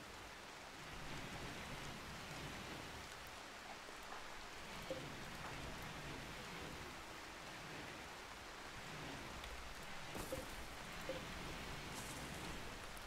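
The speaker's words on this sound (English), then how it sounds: "Rain?" Steady rain falls in the video game RimWorld, a soft continuous hiss with faint scattered drops, heard alone at low volume.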